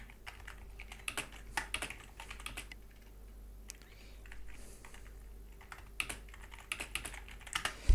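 Rapid, uneven clicking of computer keyboard typing during a Rise Online gaming session, fairly quiet and close, with clustered bursts of keystrokes and no talking.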